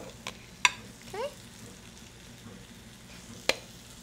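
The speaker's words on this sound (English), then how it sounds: "These are starting to sizzle really nicely." Zucchini noodles sizzling and frying in a pan, a soft steady hiss with a few sharp clicks and stirring scrapes, close and quiet with no talk.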